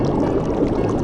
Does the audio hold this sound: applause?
no